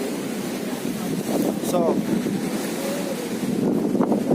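Ocean waves and howling wind during a typhoon on the Bicol coast near a damaged fish market, a loud continuous roar of surf and wind buffeting the microphone, with a voice speaking briefly over it.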